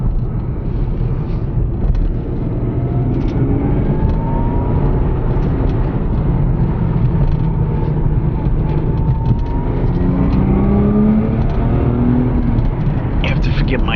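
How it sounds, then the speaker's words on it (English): A 2002 Lexus IS300 Altezza with a 5-speed manual gearbox accelerates on the road, its engine note rising and falling through gear shifts as a loud, steady drone close to the microphone. "the car takes the turns very nice. And it has a great sound to it also."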